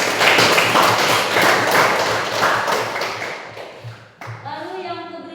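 A class claps hands together in a classroom, loud and close with a dense, steady patter that tapers off, after which a voice begins speaking.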